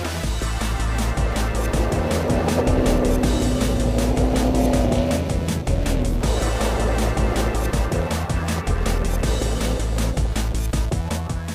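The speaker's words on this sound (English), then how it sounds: "the Mahindra Adventure Rally team drivers showed off their sand driving skills on the XUV" Mahindra XUV and Thar SUVs driving hard across desert sand during an adventure rally, a steady, loud engine roar that holds for the whole stretch, with a brief dip partway through.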